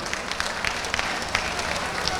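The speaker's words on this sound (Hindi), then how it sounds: "उनके लिए भी जोरदार तालियां बरवाएं" Crowd at an outdoor Indian election rally for an independent candidate claps loudly and continuously, a dense, even burst of applause from many people lasting a couple of seconds.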